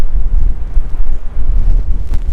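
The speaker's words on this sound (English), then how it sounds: "But I think it's a bit too windy." Strong gusts buffeting a microphone outdoors on a windy seaside day beside a camper van, a loud low rumbling roar that swells and dips with brief lulls.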